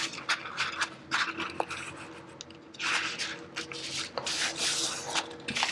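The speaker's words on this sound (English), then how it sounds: "I want to do right now is I want to apply some of the glue stick here" A glue stick rubbed across a paper page while assembling an accordion book with pockets, heard as close, soft scraping strokes in irregular bursts with no talking.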